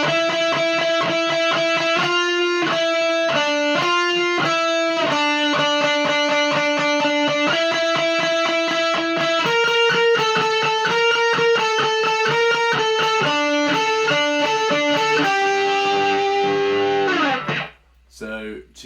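A distorted electric guitar plays the second half of a shred solo, with rapid, sustained melodic runs through an effects unit that stay loud throughout before ending abruptly.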